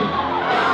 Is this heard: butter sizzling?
no